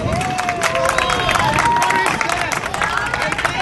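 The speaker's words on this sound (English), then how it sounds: "Round of applause for them" Audience applauding and cheering for race winners at a community celebration, a dense continuous wash of clapping with crowd voices and shouts mixed in throughout.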